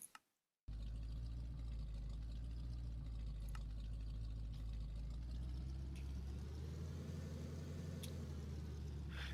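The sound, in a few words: standard inline-six overhead valve engine running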